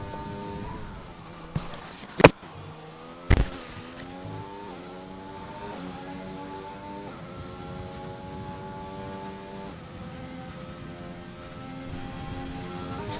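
A racing car engine drives a lap in a racing game, its tone rising through the gears with a few sharp knocks early on, then holding a steady, fairly loud drone.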